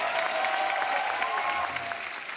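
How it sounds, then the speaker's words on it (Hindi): Studio audience at a comedy show breaks into applause, a dense steady wash of clapping held at even loudness throughout, with a faint tonal musical line running underneath. "जोरदार तालियां यार।"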